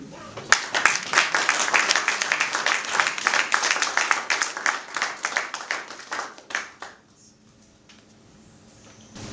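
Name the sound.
audience applause and cheers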